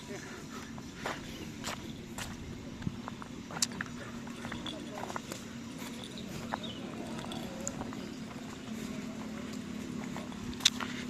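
Large racing bulls at a Karapan Sapi practice ground in Pamekasan, Madura, make scattered, faint hoof thuds and clops on the ground outdoors, while people talk in the background.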